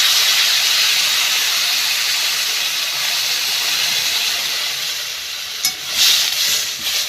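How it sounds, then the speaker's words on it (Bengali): Drumstick pieces and potatoes, lightly fried, bubble in water in a pan, giving a steady bright hiss and simmering fizz that continues throughout, with a few brief clatters near the end; no voices. "এবার জল দিয়ে ভালো করে সেদ্ধ করে নেব"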